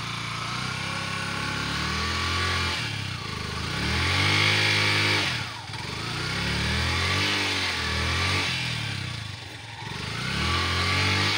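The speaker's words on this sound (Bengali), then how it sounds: "আর একটু পিক আপ বাড়ান, এত অল্প পিক আপে উঠবে না তো।" Motorcycle engine revving hard while climbing a steep red hill on a Bangladesh tour near Srimongol, steady loud drone with surging pitch changes and no talk.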